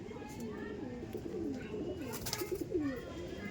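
Pigeons coo in a loft: several soft, rolling low coos repeat close by, with a few wing flutters and faint background voices.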